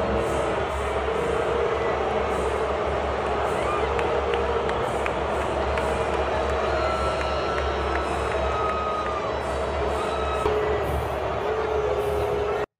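A loud, sustained Super Bowl stadium crowd roar with low, droning booing mixed in, continuous throughout with a constant low rumble underneath.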